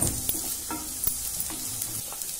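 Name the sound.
grated garlic and ginger sautéing in a pan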